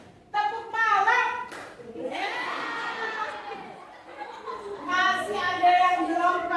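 Children in a classroom clap in unison during a call-and-response concentration game, bursts of group clapping mixed with a teacher's calls and the kids' chanted replies.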